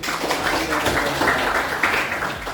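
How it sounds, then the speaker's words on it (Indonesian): Classroom audience of students applauding, a steady patter of clapping at moderate level lasting a couple of seconds. "Berikan tepuk tangan untuk"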